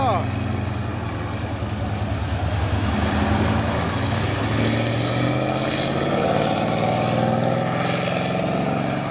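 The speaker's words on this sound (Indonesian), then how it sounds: "Wah, jumpa sama truk trailer Siba Surya." A Siba Surya trailer truck rumbles past with a deep, steady engine drone that swells slightly and holds for several seconds, while people talk nearby.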